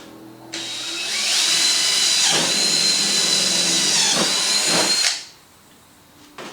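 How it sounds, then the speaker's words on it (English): A power drill whines steadily for several seconds as it bores a hole, loud and close, with its pitch dipping briefly a couple of times before it stops. "Drill your hole."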